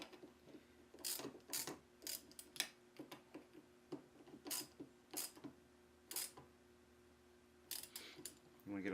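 Bolts being tightened on a steering wheel quick release, close, crisp ratchet clicks in short irregular bursts with quiet gaps between them.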